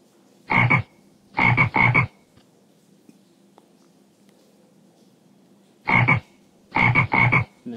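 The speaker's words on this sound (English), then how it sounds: "Frog." A frog croaking in short rasping bursts, one call, then a pair, then after a long quiet gap three more, close and clear against a near-silent background.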